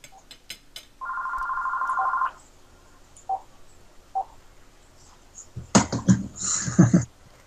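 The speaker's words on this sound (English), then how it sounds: "is his phone seriously ringing?" A phone rings once in a long steady tone, then brief faint chirps follow and a burst of louder clatter and noise closes the short stretch.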